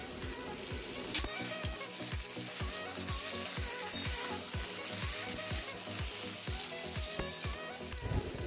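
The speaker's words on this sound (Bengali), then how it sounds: "গাজর, লাউ এবং সজনে ডাঁটা। এগুলো সব একসাথে দিয়ে ভালো করে ভেজে নেব।" Carrot, bottle gourd and drumsticks frying together in a pan, a steady loud sizzle running throughout with regular scraping stir strokes in a quick rhythm.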